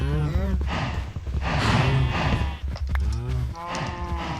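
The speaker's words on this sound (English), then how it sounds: "Stupid cow, get out of the way." Repeated cow moos in Minecraft, several low drawn-out calls across the clip, loud and near, with a voice talking over them at times.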